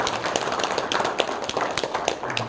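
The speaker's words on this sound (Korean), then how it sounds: "우리 새 가족을 위해서 박수 한번 드리겠습니다." A Korean church congregation claps for new members during a Sunday worship service. The clapping is a dense, loud patter of many hands, continuous and close.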